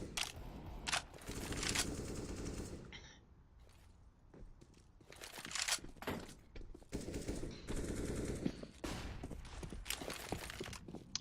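Rapid automatic gunfire bursts in a Counter-Strike match, loud sprays of shots near the start and middle, separated by a quieter gap with game ambience.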